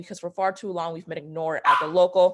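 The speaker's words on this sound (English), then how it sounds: "Excuse my dogs, it's the damn time of the day when they have to walk outside." Several pet dogs bark and yip indoors at home, sounding close and loud, in sharp bursts that overlap with a person talking during a city council candidate forum.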